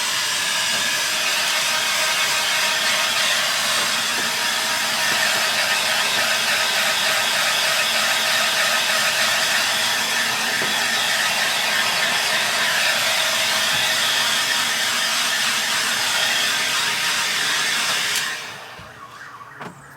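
A heat gun blows steadily for about eighteen seconds while being wafted over a repaired vehicle interior trim panel, a loud continuous hiss and whoosh that cuts off sharply near the end with no talk.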